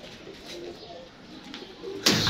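Pigeons on the ground, cooing softly in a hot outdoor spot, low and faint under light background noise, ending in a sudden loud burst that may be wings flapping.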